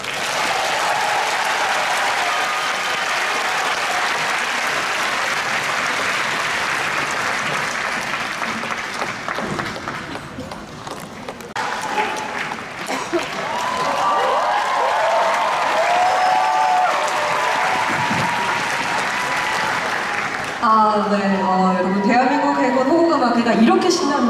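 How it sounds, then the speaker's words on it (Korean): Audience at a navy concert breaks into loud, sustained applause with some cheering, filling the space for most of the stretch before fading into a brief lull and then musical tones. "뜨거운 박수가 필요합니다."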